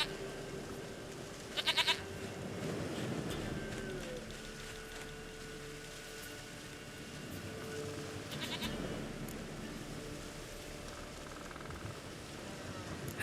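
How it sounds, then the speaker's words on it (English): Goat bleating in The Witcher 3: Wild Hunt, faint wavering calls set into quiet game ambience with light crackle, brief sharper bursts between them, and soft dialogue heard at points. "Goat of mine, dearest, sweetest goat."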